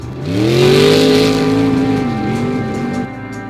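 Old Jeeps on special made tires with lots of horsepower race around an ice track, a loud nearby engine revving and droning as it accelerates, then its pitch dips and levels off while the car holds steady, no voices.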